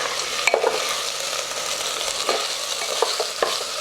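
Tomato puree cooking in a pan while a utensil stirs it, giving a steady soft sizzle with light scraping taps and a few sharper clinks of spoon against pan.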